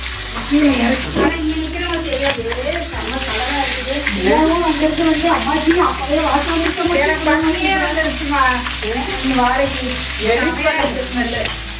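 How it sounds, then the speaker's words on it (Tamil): Pre-cooked chicken sizzles and crackles steadily in hot oil for biryani, a continuous loud frying hiss with stirring, while a voice talks over it. "இப்போ எண்ணெய் காய்ச்சதும் வச்சுருக்குறேன் அந்த சிக்கனை போட்டுக்கலாம்"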